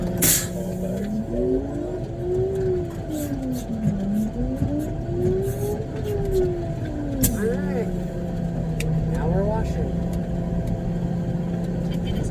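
A concrete truck being repositioned at a large slab pour: its engine revs up and down in slow, swelling sweeps, with a voice talking over it close by.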